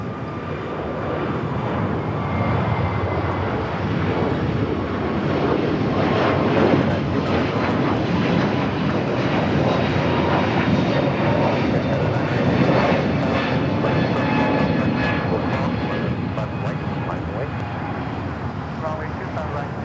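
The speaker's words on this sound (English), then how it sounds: "up next, the Qantas A380 Super." A Qantas Airbus A380 jet takes off at Los Angeles International Airport, its engines producing a loud, steady roar that holds throughout with a broad rumble, while faint voices and light traffic noise sit beneath.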